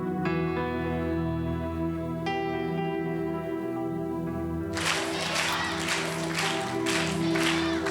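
Church congregation clapping hands together during a Telugu sermon, a broad dense burst of applause rising suddenly over sustained organ-like music and continuing steadily to the end.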